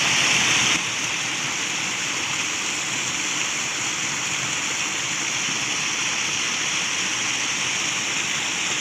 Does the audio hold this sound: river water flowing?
yes